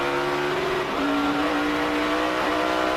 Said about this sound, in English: You hear the 6 car get up on the rev limiter, left it just a split second too long in that lower gear.